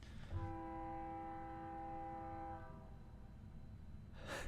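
A train horn sounds in a long steady blast of stacked tones over the rumble of a passing train, then cuts off as the rolling noise continues, with a brief burst of noise at the end.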